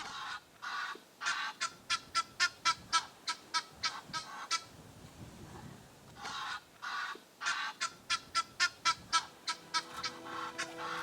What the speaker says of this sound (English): This pair drives away the Egyptian geese from their tree.